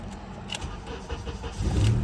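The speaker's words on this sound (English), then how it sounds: "It cranks, starts, no problem." A Honda Accord with an intermittent no-crank, no-start fault cranks and then fires up: a short churn of the starter followed by the engine catching and settling into a louder idle, recorded nearby.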